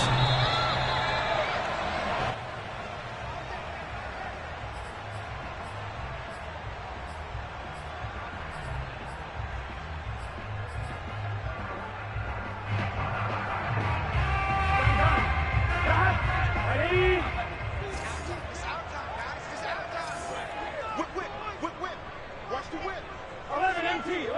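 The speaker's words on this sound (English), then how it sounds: "The enthusiasm of this Cincinnati crowd in full effect a moment ago" Sold-out home crowd cheering in an American football video game between Cincinnati and Baltimore, a steady roar of voices that swells louder midway, with commentary talk running over it.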